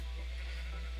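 Sheep bleating in Minecraft, a short sustained game-style bleat heard alone over a steady low hum.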